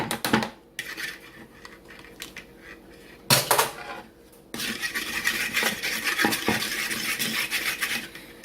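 Spoon clinking and scraping against a bowl while milk is stirred into a French toast egg mixture, with bursts of rapid metallic clatter separated by a brief pause, close and fairly loud with no talking.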